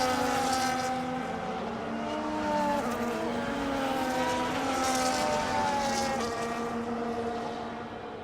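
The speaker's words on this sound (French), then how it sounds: "Les voitures reviennent tout doucement pour se positionner sur la grille." Race cars roll slowly back onto the starting grid at Imola, a steady blend of engine tones droning together at moderate distance with gently shifting pitch, no voices.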